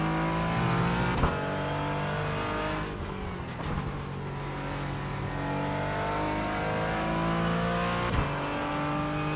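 Porsche 718 Cayman GT4 engine in the iRacing video game, a sustained loud mechanical drone that holds steady and swells slightly under throttle, close and continuous, with no voices.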